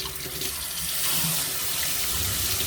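A kitchen tap runs with water splashing into the sink, a steady close rushing stream that swells slightly partway through, heard alone without talk.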